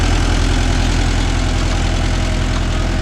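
A Mahindra Yuvo Tech Plus 585 4WD tractor engine idles close by, a loud, steady low chugging throb with even rhythmic pulses throughout.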